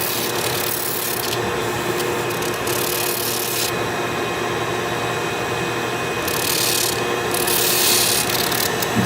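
Steady rubbing and rasping of sandpaper and sanding wheels on a briar wood pipe, a continuous close gritty scrape with shifting high hiss as strokes change pace, no talk over it.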